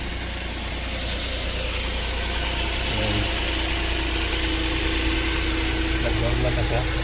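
Suzuki DA64B van with a K6A engine idling during a coolant flush, a steady low mechanical hum and faint rattle held evenly throughout, with someone talking quietly over it.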